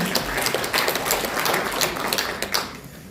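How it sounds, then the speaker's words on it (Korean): Audience applause at an anniversary ceremony in Korea, a dense continuous patter of many hands clapping at moderate loudness, fairly close, without talk. "여러분 감사의 박수 부탁드립니다"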